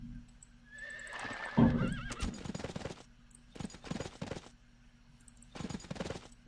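A horse whinnies loudly, followed by galloping hooves and bursts of rapid gunfire and game effects, with no talking.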